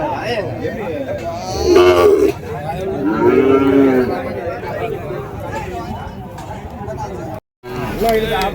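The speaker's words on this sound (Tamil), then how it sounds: "நாட்டு கண்ணுங்க தான், ஃபுல்லாகவே நாட்டு கண்ணுங்க தான்." Native breed calves at the Madrapalli cattle market give a couple of loud, drawn-out moos nearby amid a crowd's chatter and someone talking.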